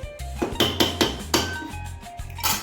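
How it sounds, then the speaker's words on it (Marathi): A spoon clatters against a pressure cooker pot of boiling water for matar rice, followed by the lid being fitted on. The metallic knocks and clinks come in an irregular series, close and fairly loud, with no talking. "आता एकदा हलवून आपल्याला झाकण लावून घ्यायचं आहे"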